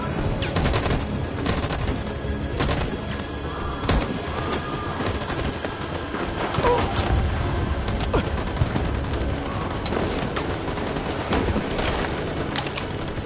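A burst of gunfire in a Detroit: Become Human scene, sharp rapid shots and volleys cracking over busy ambient game sound.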